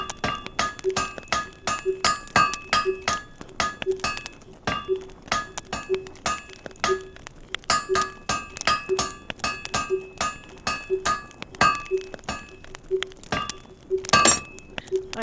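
Rhythmic metallic clinks from hammering metal in the survival video game Survive The Wild, evenly spaced strikes repeating steadily throughout with bright ringing tones, plus a louder ping near the end.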